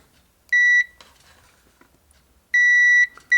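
A multimeter continuity tester beeps while probing the wiper contact on a model train, giving sharp, loud, steady electronic tones: one short beep, a longer beep later, then the start of another, with quiet gaps between.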